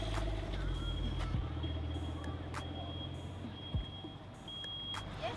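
Repeated electronic beeps ring out around a busy car park by a campsite near Bled, steady intermittent tones over a low rumble of idling vehicles and crowd background.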